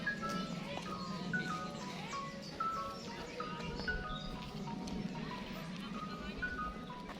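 An ice cream truck jingle plays faintly in the distance as it passes a house in UP Diliman, a repeating tinkly tune under nearby chatter and outdoor background noise.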